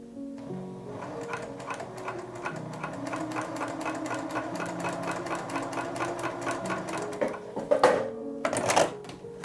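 A Juki TL 2010Q sewing machine stitching through three layers of felt, a fast steady rhythmic needle chatter running throughout, close and clear, ending with a couple of louder thumps or clunks.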